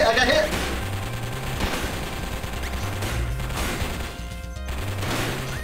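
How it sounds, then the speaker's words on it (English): Rapid heavy machine gun fire in a robot shooter video game, dense repeated bursts layered over a looping game music bassline, continuous and loud from start to finish. "Oh, I got a heavy machine gun now. All right. They're shooting back."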